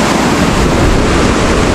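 A waterfall along a river in Pueblo Bello roars as a loud, steady broadband rush, close and continuous with no voices.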